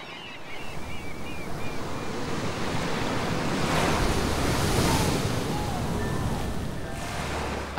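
Sea waves wash and surge steadily along the Scottish Highlands coast, a broad continuous roar of surf with gusty wind noise across the microphone and no voices.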